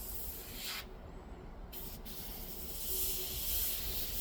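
An airbrush sprays paint in short bursts, giving a soft close-up hiss that starts and stops, with a brief pause and then a longer steady spray.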